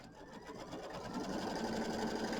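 Sewing machine stitching down quilt batting on a Kimberbell mini quilt, a steady continuous whirring hum that holds even and slightly builds throughout, close and alone with no talk.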